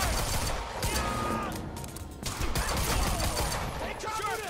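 Gunfire in Quantum Break: dense bursts of rapid shots crackle nearly nonstop at close range, mixed with shouting voices and action clatter.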